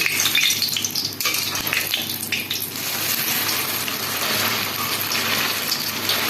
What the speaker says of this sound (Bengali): দেখো লেচিগুলোকে তেলে দিতেই কি সুন্দর ফুলে খেতে